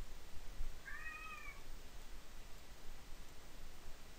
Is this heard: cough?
no